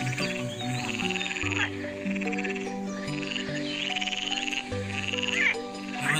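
Frogs croak continuously in a dense chorus, with layered rhythmic calls repeating throughout, loud and fairly near, with no speech.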